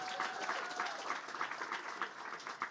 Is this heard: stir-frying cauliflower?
no